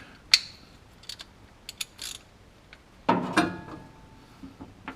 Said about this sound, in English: Let's see if I can get the ratchet on there